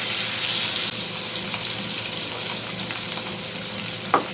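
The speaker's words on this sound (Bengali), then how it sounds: "তো মাছটা আর 1 মিনিট ভাজবো আমি।" Fish frying in a pan of oil for a Bengali home recipe, giving a steady loud close sizzle that hisses without break, with a brief knock near the end.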